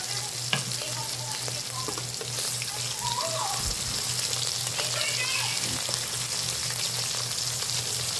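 Balut with bacalao frying in a pan, a steady bright sizzle of hot oil filling the whole stretch, with a low steady hum underneath and a few small clinks and scrapes, no talking.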